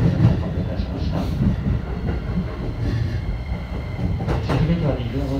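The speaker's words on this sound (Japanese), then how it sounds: "新宿駅は2分ほど遅れて発車をしております。" A Sotetsu through-line train to Ebina rumbles and rattles away from Shinjuku Station platform 6, a steady rolling clatter with occasional squeals, heard from inside a carriage.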